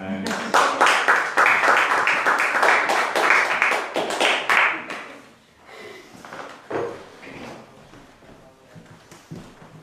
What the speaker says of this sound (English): With rousing applause, please help me welcome Avital Miller.